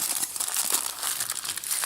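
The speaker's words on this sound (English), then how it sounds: "fold it a few times. So it's multiple layers of foil" Aluminum foil folded over several times into layers, crinkling and crackling continuously with close, busy rustle throughout.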